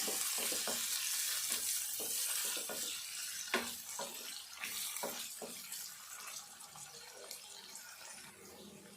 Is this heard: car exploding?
no